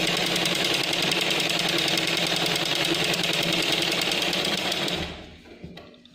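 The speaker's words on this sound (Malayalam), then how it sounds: "എന്നിട്ട് ഇലാസ്റ്റിക് വെച്ച് നമ്മൾ അടിക്കുവാണ്." A sewing machine runs steadily, stitching elastic onto the corners of a homemade fitted bedsheet, with a dense continuous motor whir for about five seconds before it stops and the room falls quiet.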